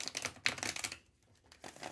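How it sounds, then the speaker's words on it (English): Tarot cards being shuffled by hand, bursts of crisp riffling and papery rustling with a brief quiet pause in the middle before another flurry, close and fairly soft. "One more shuffle."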